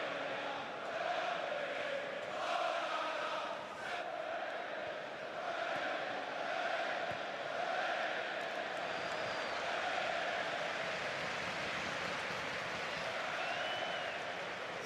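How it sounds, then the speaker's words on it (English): Applause and crowd noise roll through Stamford Bridge from the Chelsea supporters during a Champions League match against Barcelona, a steady, distant wash of clapping and cheering that lasts throughout. "Thunderous applause."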